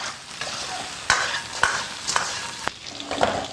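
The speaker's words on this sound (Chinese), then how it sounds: "下入老鸭子和蹄花，用大火爆炒" Duck and pork trotters stir-fried in rapeseed oil over high heat, a steady loud sizzle broken by several sharp scrapes and clanks of a spatula in the wok, with no voices.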